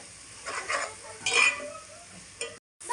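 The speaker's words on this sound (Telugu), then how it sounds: "పసుపు కూడా యాడ్ చేసిన ఫ్రెండ్స్ ఇలా మిక్స్ చేసుకోవాలి" Turmeric stirred into a frying curry base for a Korameenu fish curry, with a soft sizzle under several close scrapes and clinks of a spoon against the pan, broken by a brief gap near the end.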